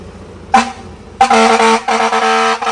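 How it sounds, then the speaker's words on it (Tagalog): Two loud, close fire air horn blasts from a car: a short honk, a pause, then a longer blaring tone that stutters briefly before continuing. "Yung 2-pit natin na fire air horn, yun yung tumunog ngayon."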